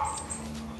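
Puppy shut in a kennel giving a soft, faint whimper or yip over a steady low background hum, brief and with no talk.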